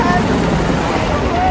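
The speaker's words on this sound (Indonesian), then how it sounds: "Terbukti dari munculnya helikopter yang ikut menyerang Bobby." A helicopter joins an attack during a chase scene in a film, its steady rotor and engine roar running continuously beneath a voice.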